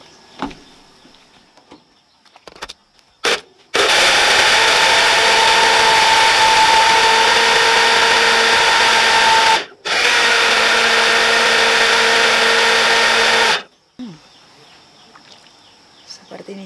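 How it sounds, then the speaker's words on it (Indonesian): A kitchen blender grinds black turmeric in two long, loud, steady bursts of whirring motor noise separated by a brief pause, with quieter handling sounds before and after. "Sekarang akan saya blender di sini."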